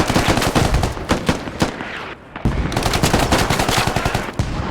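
Rapid full-auto AK rifle fire in a squad tournament shooter, loud, close bursts of dense shots with a brief pause midway before firing resumes.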